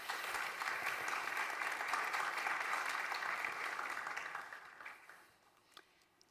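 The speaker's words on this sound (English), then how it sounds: "Please welcome them with an applause." An audience at a conference on sustainable infrastructure bursts into sustained applause, a dense wash of clapping that holds steady for several seconds, then fades out toward the end.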